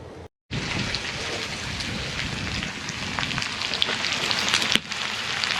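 Potatoes sizzling over an outdoor firepit, a dense crackling sizzle heard close and steady after a brief silent gap, with sharper pops scattered throughout.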